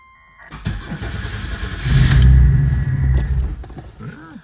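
A Toyota Echo, its starter freshly replaced, cold-starts with a short crank, then fires into a loud rising rev that settles into a steady idle nearby, with a faint whine at the end.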